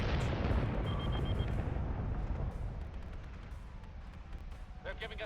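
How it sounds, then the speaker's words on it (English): Dense, rumbling gunfire and booming explosions roll continuously through a space battle in a fleet-combat video game, loud at first and gradually easing, with a few bright electronic blips near the end. "And that Revenant's going to get hit by a lot of gunfire."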